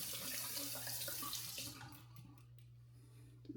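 A tap runs into a sink while a razor is rinsed during a head shave: a loud, steady gush of water that cuts off partway through, leaving a few faint drips and clinks.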